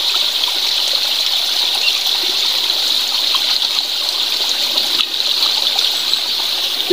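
A wild plant is rinsed under running water outdoors, a continuous bright rushing and trickling stream that stays loud and even throughout with no voices.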